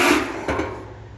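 Hammer and dolly work on the sheet metal of a car's driver-side hood, with a single close metallic strike ringing out partway through, set against steady shop background noise.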